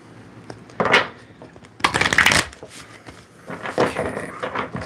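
A tarot deck is shuffled in several quick, close bursts of papery riffling and rustling, separated by brief quiet gaps, with soft handling noises between them.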